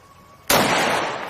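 A single sharp gunshot cracks out during target shooting, loud and close, with a brief echoing tail.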